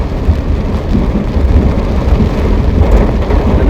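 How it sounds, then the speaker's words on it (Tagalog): Heavy rain pouring in the mountains, a loud, dense roar of drops close by, steady and unbroken with no voices. "Oh, lakas ng ulan."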